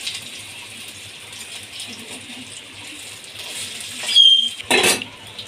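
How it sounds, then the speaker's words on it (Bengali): Paneer, potato and papad rolls frying in hot oil with a steady low crackle, broken near the end by two short louder bursts of scraping and clinking as the rolls are turned over. "এবার একটু একটু করে উল্টে নেব।"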